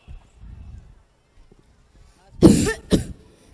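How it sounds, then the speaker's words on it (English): Two sharp, harsh coughs close to the listener, one right after the other, following a moment of faint background sound. "Little bit I am suffering from cough due to suffocation."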